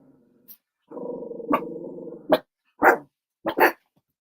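Several household dogs bark in short, sharp, sporadic bursts, close by and fairly loud, with a low sustained growl or whine between barks and silence around them.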